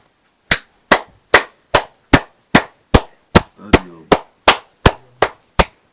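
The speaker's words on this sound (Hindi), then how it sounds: "महाराज जी ताली बजाओ।" Steady claps ring out at an outdoor gathering with a forest holy man, about a dozen sharp, evenly spaced claps close by, each cutting off quickly, with a brief low murmur in the background.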